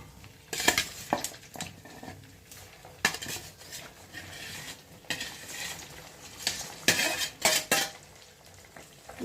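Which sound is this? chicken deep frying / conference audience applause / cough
chicken deep frying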